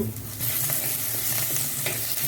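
Tempering spices fry in two spoons of oil in a clay pot on a stove, giving a steady, fairly loud sizzle with faint stirring scrapes throughout.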